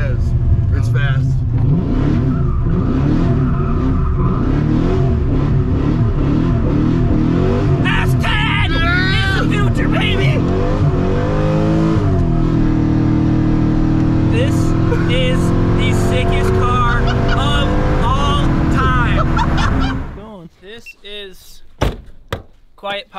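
A mini super truck built from parts of a Chevrolet S10, a Corvette and a pickup, its engine revving and pulling hard for about twenty seconds under people talking, ending with a door thunk and a cut to quiet.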